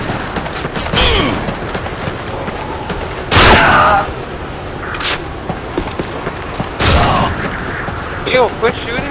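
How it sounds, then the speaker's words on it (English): Heavy gunshots boom in a video game match, a few loud blasts spaced several seconds apart with lighter shots between, while players talk throughout. "Yo, quit shooting me"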